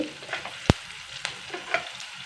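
Urad dal and peanuts fry in hot oil in a pan while tempering lemon rice, a steady close sizzle broken by a few sharp clicks of stirring.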